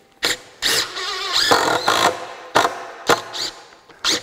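A DeWALT 20V impact driver running on an AC adapter drives screws in short bursts, a series of loud buzzing, hammering whirs with brief pauses between them, close up.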